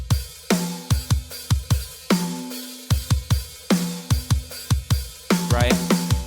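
A drum kit mixed without overhead or room mics plays a steady, punchy groove of dry, close kick and snare hits. The pattern repeats with tight, short decays, and a fill comes near the end.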